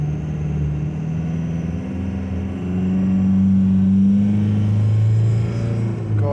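A 1.9L TDI diesel-swapped Toyota truck pulls away in first gear while towing a heavy trailer load, 11,000 lbs total. A steady low diesel drone rises gently in pitch as it gets moving, close and continuous with no talk.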